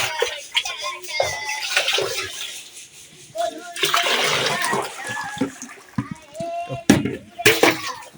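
Water scooped with a bucket and poured out, giving a run of splashes and pours, some sharp and close, beneath ongoing talk.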